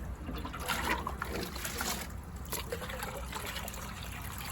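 Dirty water from an outdoor mini pond pours out in a steady, close trickle and splash, with a soft continuous wash of liquid and no talking over it.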